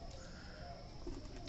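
Pigeons coo softly on a rooftop on a cold winter morning, a faint low murmuring call over steady outdoor background noise.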